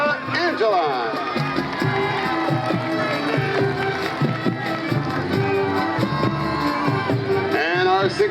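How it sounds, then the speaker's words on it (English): A crowd at a high school football game homecoming ceremony cheers and claps through the whole stretch, with shouting and a public address voice over the noise. "A round of applause for Miss Samantha Angeline."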